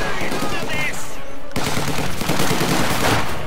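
Machine-gun fire in the World War II strategy game Company of Heroes 2 rattles in loud, rapid bursts, with dense chattering gunfire and battlefield noise filling the whole stretch.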